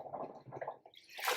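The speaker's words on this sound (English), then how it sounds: "we're going to agitate it around so that it mixes in with the water" A hand agitates water in a basin to mix in sweater wash detergent, making close sloshing and gurgling swishes in quick, uneven strokes, ending in a brighter splash.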